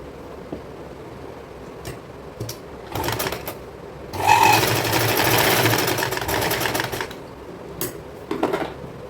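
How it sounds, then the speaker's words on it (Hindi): A sewing machine stitches along the folded edge of an old saree, with a sustained loud rattling run in the middle and short bursts of stitching before and after, close up and without speech. "इसी तरह से इस किनारे पर भी हम सिलाई लगा लेंगे।"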